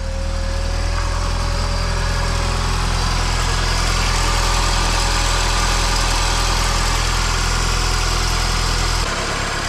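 A car engine with a newly installed turbo runs steadily at idle with a slight rattle from parts still removed, a loud, close, continuous drone that changes briefly near the end.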